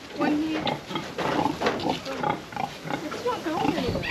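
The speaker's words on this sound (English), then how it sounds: "He's a pig." A pig on an outback farmstay grunts and snorts repeatedly at close range, mixed in with people talking nearby.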